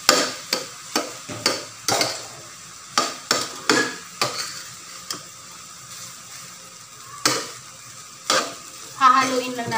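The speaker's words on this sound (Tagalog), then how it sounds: "hahaluin lang natin ng mabuti." Egg fried rice stirred in a pan, with a utensil clacking and scraping in quick irregular strokes over a faint sizzle, each stroke loud and close.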